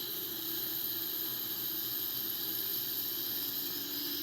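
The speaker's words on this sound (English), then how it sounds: "And here we go, we have the right wing engine also on." Right-wing jet engine of a Boeing 777-300ER spooling up in a flight simulator, a steady broadband whine and hiss with a sustained high-pitched tone, constant and fairly loud throughout with no talk.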